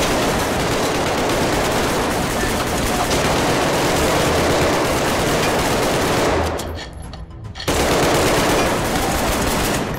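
Sustained rapid gunfire from the video game Arktika.1, a dense continuous barrage that fills the scene, briefly dropping out for about a second before resuming just as loud.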